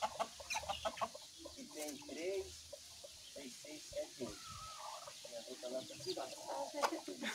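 Farm hen clucking near newly hatched chicks, a string of soft repeated clucks and chirpy peeps close by, with faint human voices now and then in the background.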